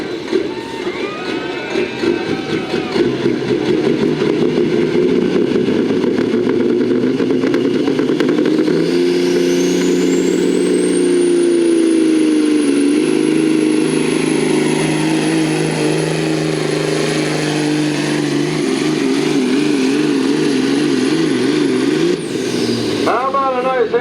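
A heavy modified semi truck engine at a truck pull revs from 2,200 toward 4,000 RPM, a loud, sustained high-pitched roar that holds steady for a long stretch before cutting off abruptly near the end.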